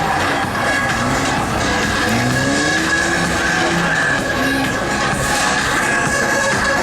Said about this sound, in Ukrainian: Все-таки показує характер ця копійка, буксує одним колесом